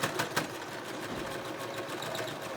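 A sewing machine runs steadily while stitching the seam of a fabric face mask, giving a continuous close-up motor whir with a few brief louder bumps near the start and no talking.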